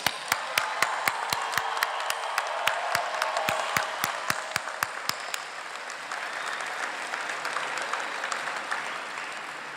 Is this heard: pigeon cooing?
no